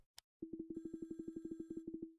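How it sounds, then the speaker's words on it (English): A telephone rings in the Sumire video game, a rapid train of about twenty short, evenly spaced electronic trills at a steady pitch, heard alone and fairly clear. "I think I hear a phone ringing,"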